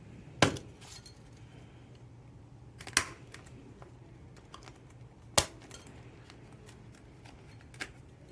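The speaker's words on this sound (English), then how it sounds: "The hole puncher can be a little bit sticky, so just be cautious of that." A hole puncher punches holes in paper for a handmade journal. Four sharp, separate clunks are spaced a few seconds apart over a quiet room background.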